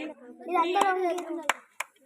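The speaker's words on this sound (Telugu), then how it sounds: "చప్పట్ల" Someone speaks briefly, followed by three sharp, separate hand claps spaced slightly apart, close and distinct, at a teachers' felicitation ceremony.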